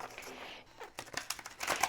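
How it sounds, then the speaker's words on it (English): A deck of tarot cards being shuffled close by, soft riffles and crinkly slides building into denser rustling toward the end, with faint talking underneath. "as I'm shuffling the cards"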